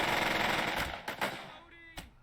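Machine gun fire in the tactical war game Burden of Command, a dense rattling burst that fades, followed by a few separate sharp cracks, fairly close and loud.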